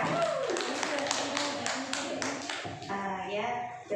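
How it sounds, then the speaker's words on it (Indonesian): A group applauds in a classroom or workshop session, with a burst of clapping that fades out before a speaker resumes talking. "Berikan tepuk tangan untuk Ibu Masita."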